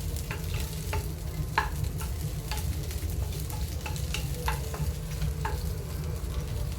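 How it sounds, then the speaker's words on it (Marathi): Okra (bhindi) fries in oil in a pan for a hotel-style bhaji, giving a steady crackling sizzle close up, with a spoon scraping and stirring in irregular clicks and strokes over it. "भेंडी भाजून घ्यायची आहे थोडी म्हणजे नंतर चिकट होत नाही भाजीमध्ये"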